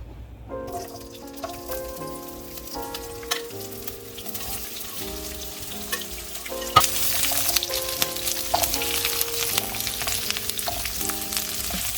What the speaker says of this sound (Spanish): primero vamos a sofreír la cebolla con el pimiento